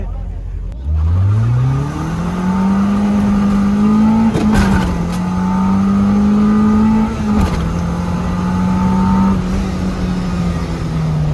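A modified car's engine revs up and holds a steady high drone during a run, loud and close, with brief bursts of extra noise and voices talking over it.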